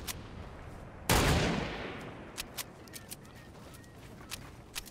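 A loud gunshot blast rings out and decays, followed by scattered sharp shots and clicks from Fortnite combat, no talking.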